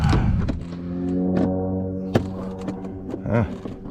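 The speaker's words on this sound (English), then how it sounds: "Got the planes practicing above me, turning their engines on and off." Small planes practicing overhead, their engines cutting on and off: a steady, harmonic droning hum runs through the whole stretch, rising and falling slightly, with a sharp knock near the middle and no talking.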